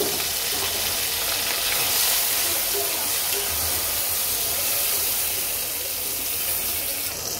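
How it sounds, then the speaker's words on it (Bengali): Grated tomato, green chili and ground ginger masala sizzle in a frying pan, giving a loud, continuous frying hiss that holds steady throughout. "এখন আমি মশলাটা দিয়ে দেব।"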